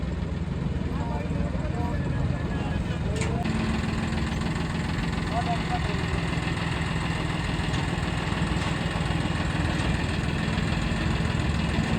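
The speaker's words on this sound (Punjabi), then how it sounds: "ਹੁਣ ਮਨੂ ਵਾਲਾ ਟਰੈਕਟਰ ਚੜ ਲਿਆ" A tractor engine idles steadily with a low, continuous throb throughout, with faint voices in the background.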